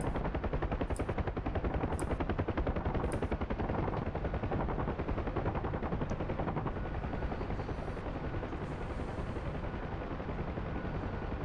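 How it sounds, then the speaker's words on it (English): Helicopter rockets fire at armored personnel carriers in the DCS combat flight simulator, with steady rotor drone throughout and several sharp, evenly spaced launch bursts near the start. "We're gonna try and get these APCs with rockets."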